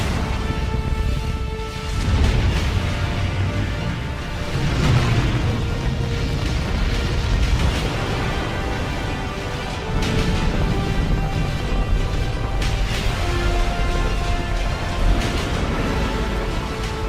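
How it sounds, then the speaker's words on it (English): SpaceX Crew Dragon rocket at ignition and liftoff, a loud, continuous rumbling roar that swells and crackles over many seconds, dense and powerful from start to end. "the historic first test flight of SpaceX's new Crew Dragon capsule. 5, 4, 3, 2, 1, 0. Ignition, liftoff."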